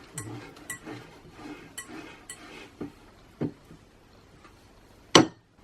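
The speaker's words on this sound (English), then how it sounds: "And scrape down the sides of our mixing bowl." A spatula scraping down the sides of a mixing bowl of banana cookie dough, a few soft scrapes followed by sharper clinks and one loud knock against the bowl, quiet and close.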